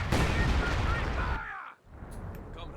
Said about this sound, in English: Sniper picking away on the left-hand side as well.